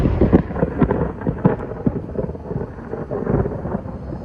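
A severe thunderstorm with rain and strong wind gusts produces close thunder, a series of rumbling cracks and booms over a steady wash of rain, with no voices.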